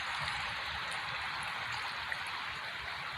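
A river flows steadily, a constant broad rushing and trickling wash of water that stays even and close throughout.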